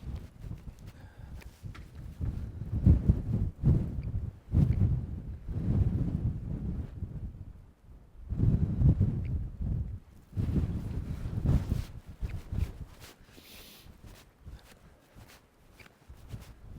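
Gusty wind blows outdoors at the Mangersta sea stacks, roaring against the microphone in uneven surges and lulls across the whole stretch, loud and close.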